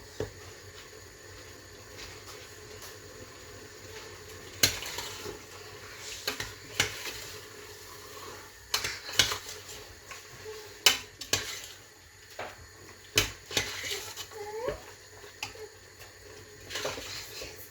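A spoon stirs a Moroccan sweet-savory dish in a pan, soft scraping and sporadic sharp clinks against the metal over a quiet faint sizzle, no talk.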